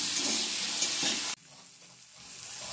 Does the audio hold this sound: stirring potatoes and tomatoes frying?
yes